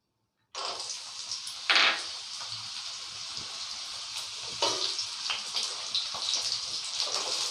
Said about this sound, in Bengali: বড়িটাকে আমি লাল লাল করে ভেজে তুলে নেব।